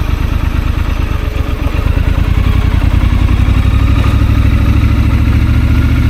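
A Triumph 1200 motorcycle engine runs at low speed with a steady, loud, close mechanical throb, rising slightly in level after the first couple of seconds as throttle is gently opened.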